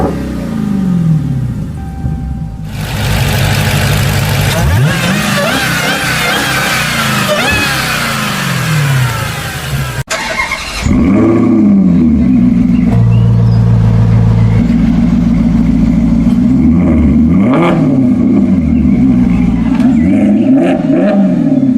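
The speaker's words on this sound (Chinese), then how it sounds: "美式 V8 的声浪跟欧系的那种平面曲轴 V8 完全不一样。" Two V8 engines rev loudly in turn, an American cross-plane V8 and then a European flat-plane V8, each swelling through repeated throttle blips and sustained high-rpm pulls, with a sharp cut between the two recordings.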